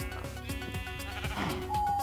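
Sheep in the Minecraft video game bleat in short wavering calls over a backdrop of regular rhythmic game sounds, ending in a sustained higher tone.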